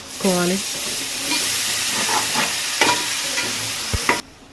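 Spiced curd masala being stirred in a pan for paneer biryani, with a steady sizzle and scraping strokes that run continuously, close and moderately loud, and brief voice sounds early on.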